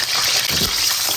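Scallion, ginger and garlic hit hot oil in a wok, giving a loud, dense, continuous sizzle that fills the short moment without pause.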